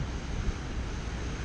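Ocean waves washing against rocks at Watsons Bay in Sydney, heard as a steady broadband roar mixed with gusty wind buffeting the microphone, close and fairly loud with no voices.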